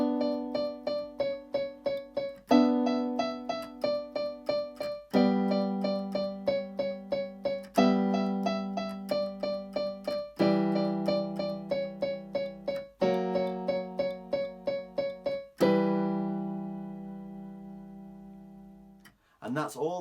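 Keyboard playing the verse and chorus of a song, steady repeated chords and melody notes in clear bars, close and loud, ending with a held chord that decays into quiet.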